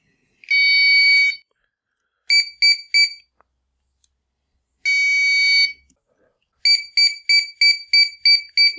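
The servo timer of a water rocket's booster deployment system beeps on switch-on: a long high tone, three short beeps, another long tone, then a quick run of six short beeps, loud and close.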